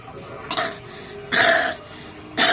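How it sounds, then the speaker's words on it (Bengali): Three separate harsh coughs about a second apart, loud and close, with quiet room tone in between. "আবার কাশছো কেন কাশিটা হচ্ছে তো"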